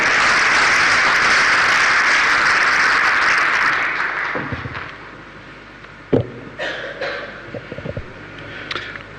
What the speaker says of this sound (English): as you're giving a round of applause